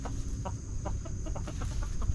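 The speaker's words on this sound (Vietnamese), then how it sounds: "Đây là những con gà." Chickens in a garden clucking in short, repeated bursts, close and moderately loud over a steady background hum.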